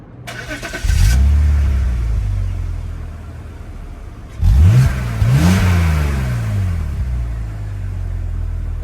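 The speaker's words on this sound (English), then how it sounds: "because it's an inline-6 made by BMW, you would expect some type of exhaust note" A 2003 BMW X3 3.0's inline-six engine revs up twice with a deep, throaty exhaust rumble, rising and falling in pitch, steady idle drone in between.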